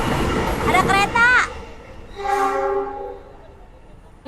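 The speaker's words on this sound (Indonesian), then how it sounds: "Ada kereta." A train passes near Tebet station in Jakarta, sounding its horn in a loud wavering blast followed by a second long, tonal honk as the train rumbles by, with street noise underneath.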